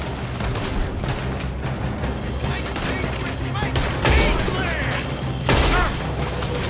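A shootout in Red Dead Redemption 2 is thick with rapid gunfire and overlapping volleys, punctuated by a couple of heavier booming shots. Voices are heard shouting over the shooting.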